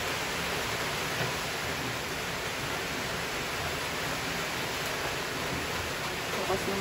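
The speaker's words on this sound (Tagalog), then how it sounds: "Lumalakas na naman ang ulan." Dense, steady rushing noise of heavy rain pours without pause, broad and even throughout, with no voices.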